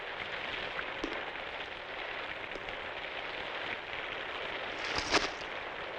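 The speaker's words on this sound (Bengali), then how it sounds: "যা বৃষ্টি" Steady, dense rainfall makes an even hiss throughout, with a few faint bumps and a brief louder rustle near the end.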